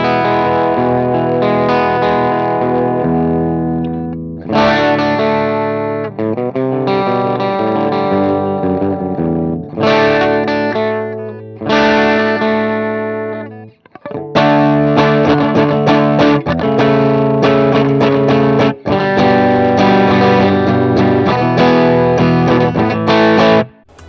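Electric guitar runs through free Blackstar NAM amp model captures on a clean channel, with chorus and reverb effects; chords ring and strummed phrases come in bursts separated by short pauses, loud and close, with no voices.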